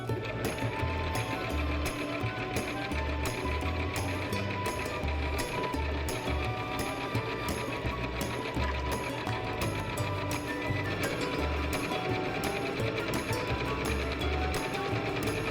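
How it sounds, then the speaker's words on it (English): A sewing machine running a straight stitch through fabric for a pillow cover, a steady, rapid mechanical clatter that continues evenly and loudly for the whole stretch, close up with no talk. "I'm going to be doing a straight stitch at size 10."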